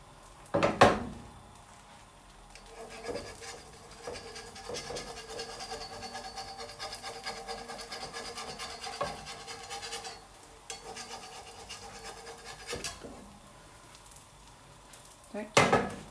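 A thin avocado omelette sizzles in a 30 cm frying pan, with a utensil scraping and clacking against the pan as it is flipped, a steady soft frying hiss between sharp clinks at start and end.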